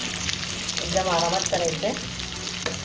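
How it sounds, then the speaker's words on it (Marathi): Hara bhara kababs fry in oil in a pan, a steady close sizzle and bubbling with a few utensil scrapes as they are turned, while someone speaks briefly over it. "अशा प्रकारे दोन्ही बाजूने तळून घ्यायचे आपल्याला"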